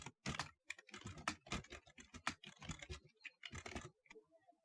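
Python code being typed on a computer keyboard, with rapid clattering keystrokes arriving in dense bursts and brief pauses, close and fairly quiet, with no talking.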